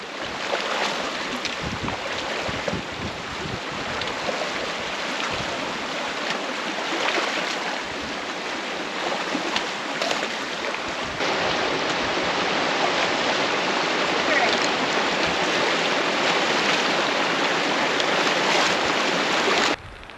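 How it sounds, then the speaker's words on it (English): A cold snow-melt creek on the West Fork of the Gila River rushes and splashes loudly as it is crossed, a dense, continuous wash with wind buffeting the microphone. "crossing the creek"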